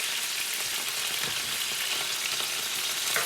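Boneless meat frying hard in a hot skillet, a loud, dense, continuous sizzle with splattering crackles, close and steady throughout with no speech.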